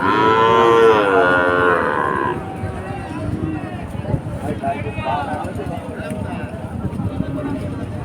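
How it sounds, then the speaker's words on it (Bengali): Loud, drawn-out cattle moos open the scene at a livestock market, then a busy outdoor crowd murmur with people talking and animals shuffling nearby. "দেখেন অনেক গরু নিয়ে আসছে"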